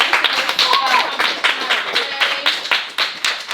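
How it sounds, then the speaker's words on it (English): A cheer team claps in quick, sharp, uneven bursts close by, with voices speaking and calling out over the clapping. "clap it up"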